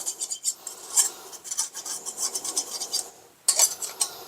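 A utensil scrapes butter and orange zest out of a bowl while scones are made, giving a close series of rough, rasping strokes in uneven rhythm with a brief pause near the end, no voices present.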